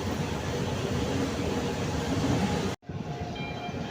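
MEMU passenger train departing Bellampalli, heard from on board as a loud, steady broadband rumble and rolling noise throughout, with a brief abrupt dropout near the end before the running noise resumes.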